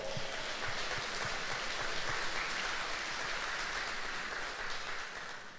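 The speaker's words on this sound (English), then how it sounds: "That's right, give them a round of applause." Dense applause from an audience at a city mayor's State of the City address, honoring over 700 city employees, a continuous wash of clapping that holds steady and then tapers off slightly at the end.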